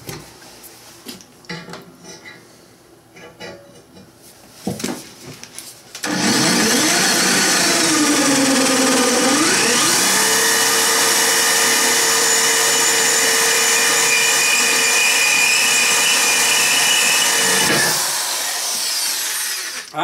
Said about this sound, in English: That was full throttle, 3/8 inch thick stuff. Full throttle on the drill.